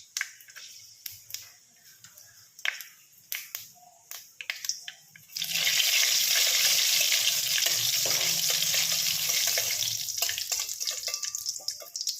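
Green chillies and panch phoron hit hot mustard oil in a kadai. After several light clicks and taps, a loud, steady crackling sizzle bursts up and holds, close by, with no talk.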